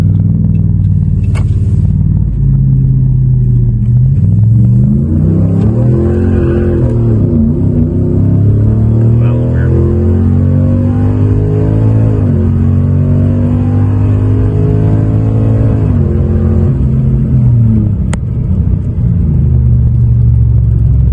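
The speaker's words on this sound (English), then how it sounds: "I'm gonna at least floor it. Let it go into second gear and then punch it." A Ram truck with a swapped-in 8-speed transmission accelerates at full throttle, engine roaring loud and close, its pitch climbing and dropping sharply at each of several quick upshifts.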